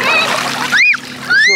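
A splash as someone dives into the sea, a short watery burst under loud, excited children's voices calling out, near and busy with outdoor beach chatter.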